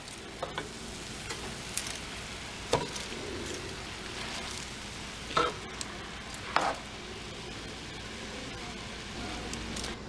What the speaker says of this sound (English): You just add the bok choy a couple minutes before you're done stir frying.